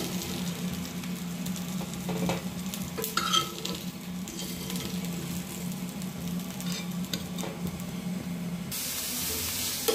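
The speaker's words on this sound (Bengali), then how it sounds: "আমি অতটুকু তেলের মধ্যেই পেঁয়াজটা ভেজে নিচ্ছি।" Onions fry in a small amount of oil while being stirred, giving a steady, close sizzle with scraping stir strokes throughout, alone without talk.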